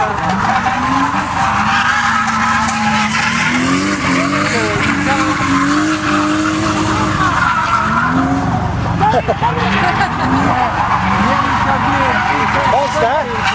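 A car drifts at the Devon Car Show 2011, tires skidding and squealing in long wavering screeches over a loud engine, while people talk nearby.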